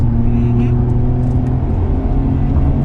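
A Nissan GT-R runs through corners on the Hakone Turnpike, its engine a loud, steady drone at even throttle, continuous and close throughout without sharp revs.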